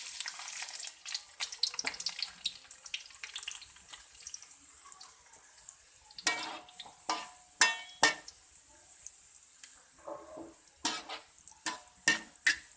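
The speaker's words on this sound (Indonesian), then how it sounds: "Kita goreng irisan bawang putihnya dahulu." Sliced garlic frying in a pan while being stirred, with steady sizzling under repeated sharp scraping and stirring clatters, close by and with no talking.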